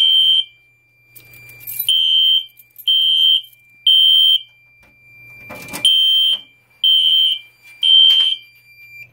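A fire alarm system under test sounds loudly in repeated pulsing tones, about six bursts with short gaps, close by and without talk.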